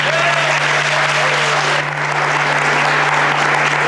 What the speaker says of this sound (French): je pense qu'on mérite une main d'applaudissement tout le monde